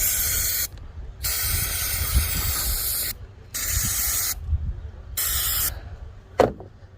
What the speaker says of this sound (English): Carb cleaner.